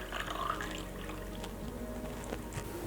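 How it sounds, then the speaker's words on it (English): Water poured into the tank of a portable 2500W car steam cleaner, a short gurgling, trickling fill heard close up with faint background hum. "Now we'll fill the tank with water."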